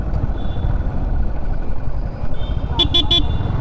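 A 2025 Yamaha MT15 motorcycle sounds its horn in three short, sharp beeps near the end, close and clear over road and engine rumble.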